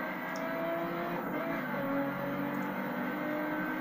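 A racing car engine in the video game The Crew drones steadily and loudly at a constant pitch, with no breaks and no voices.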